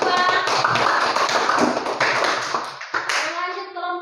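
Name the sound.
applause for group 2 in a classroom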